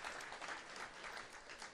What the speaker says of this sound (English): how about a round of applause for the teachers?